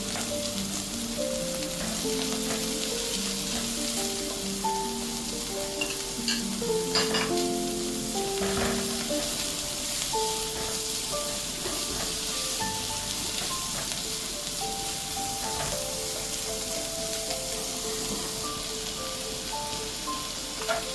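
Onions sizzle and fry steadily in a pan for a yam ball and veggie dish, a loud, continuous crackle with no voices over it.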